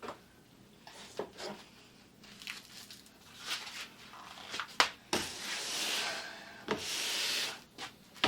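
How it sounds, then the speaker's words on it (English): Stiff copper or bronze brush rubbing wax out of a ski's base and grooves in a glide-waxing session, with irregular scratchy strokes that come in bursts, quiet at first and growing louder and longer toward the end. "Right now he's using another copper or bronze brush to brush out the ski again"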